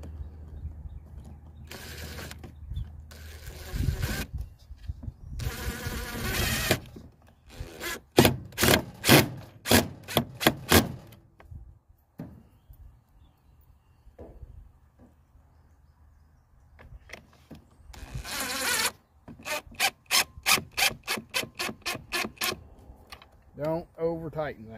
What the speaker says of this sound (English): So we will screw this down.